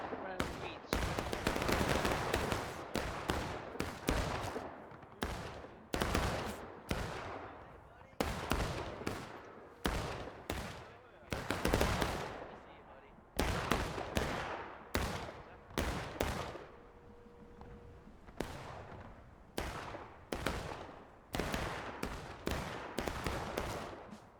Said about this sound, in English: Those are scramble fires.